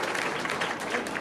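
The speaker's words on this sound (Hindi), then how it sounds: "बड़ी तालियों के साथ हम बधाई देते हैं" Applause from an audience at a Christmas program held at a chief minister's residence, a dense steady wash of many hands clapping continuously throughout the moment, fairly loud and even with no single claps standing out.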